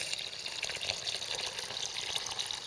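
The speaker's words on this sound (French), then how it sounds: "si je mets de l'eau là-dedans maintenant" Water is poured into a tin can set in a garden bed, giving a soft, steady trickling and splashing that stays fairly quiet and close throughout.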